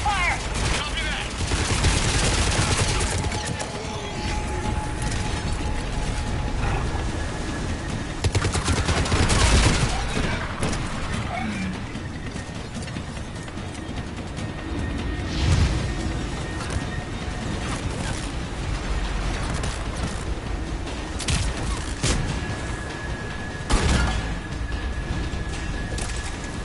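Gunfire in the video game Mass Effect 3, repeated shots and bursts of rapid fire with scattered impacts across a busy battle, mixed with game sound effects.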